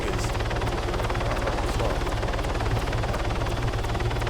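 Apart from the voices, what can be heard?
helicopter flying in the video game Arma 3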